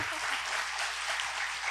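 Audience applause at a WWF-Korea anniversary talk event, a brief steady patter of many hands clapping, moderately faint and continuous with no talking.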